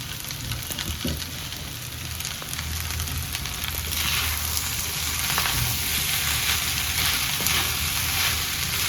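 Chicken being mixed in a frying pan for a chicken egg macaroni dish, with a steady sizzle and occasional stirring scrapes, close and continuous with no talking.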